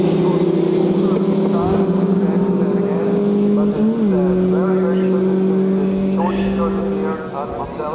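Formula Ford race cars at a historic racing festival, engines droning steadily at high revs with a shift in pitch midway, under continuous commentary.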